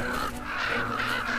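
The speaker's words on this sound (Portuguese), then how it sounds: "Os corvos defendem o seu alimento." Ravens cawing over an animal carcass in the far Arctic, several harsh, repeated calls close by, overlapping one another with a low steady background rumble.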